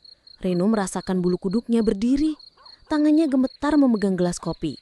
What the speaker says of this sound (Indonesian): Hanya terdengar suara jangkrik di luar